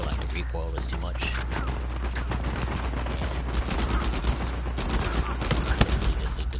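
Rapid bursts of gunfire from a weapon in Uncharted 4 crackle continuously over a dense game soundscape, with sharper peaks toward the end.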